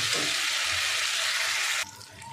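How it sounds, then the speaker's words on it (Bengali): Ginger-garlic paste hits a hot pan and fries with a loud, dense hiss that suddenly drops to a softer sizzle near the end, with no voices. "এবার আদা রসুনের পেস্টটা দিয়ে দেবো। এটাকে ভালো করে কষাবো"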